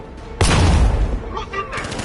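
Sudden loud burst of gunfire in the video game Batman: Arkham, a dense crackling volley that lasts about a second and then tapers off, with a voice briefly present.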